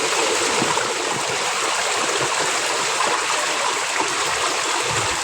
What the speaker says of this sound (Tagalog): Ayan o, grabing baha talaga.